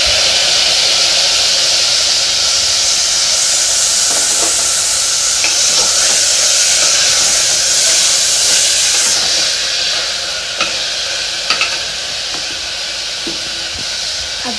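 Tomatoes tipped into deep-fried, browned onions in a pan set off a loud, steady sizzle and hiss that goes on without pause and eases slightly toward the end.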